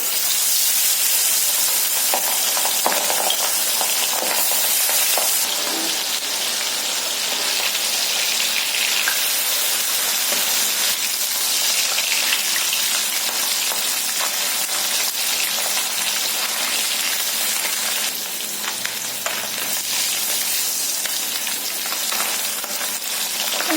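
Pabda fish frying in hot mustard oil in a heated pan, a loud, steady, close sizzle that crackles on for the whole stretch with no talking.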